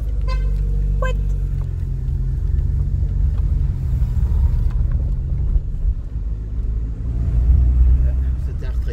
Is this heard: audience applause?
no